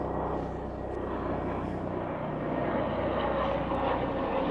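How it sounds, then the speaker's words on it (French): A SAMU emergency medical helicopter passes overhead, a steady broad rotor and engine drone that stays fairly loud and even throughout, with no voices. "On attend l'hélico qui passe."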